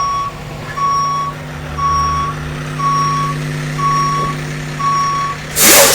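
A truck reverses toward a loading dock, its backup alarm sounding six steady, evenly spaced beeps over a low idling engine, with a sharp hiss of air at the end.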